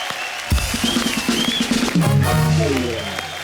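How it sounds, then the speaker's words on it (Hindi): A TV studio audience on a comedy talk show breaks into loud applause and cheering to welcome actress Katrina Kaif, with music swelling underneath. "एक बार जोरदार तालियां कटरीना कैफ के लिए"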